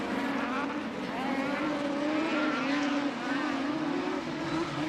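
Cross-car junior race cars at a rallycross race in Älvsbyn roar past with a steady, loud, high-revving engine drone that holds for the whole stretch, with a commentator talking over it.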